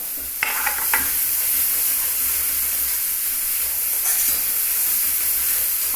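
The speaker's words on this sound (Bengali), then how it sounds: "এবার দিচ্ছে আদা রসুন গ্রেট করা" Grated ginger and garlic sizzle in a hot pan with a steady frying hiss, broken by a few sharp scrapes and stirs, and no one talking.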